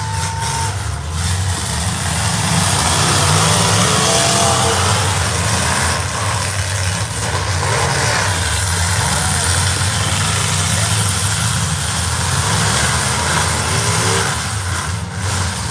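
Car engine at a county fair demolition event idles and revs in a loud, steady roar with a busy crowd din, people talking over it throughout.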